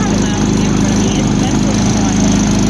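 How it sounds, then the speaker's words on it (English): A Predator 3500 generator runs outdoors as an RV power source, a steady, loud, low hum like a distant lawn mower with an even drone and no changes in pitch. "this sounds like a low hum of like a lawnmower outdoors"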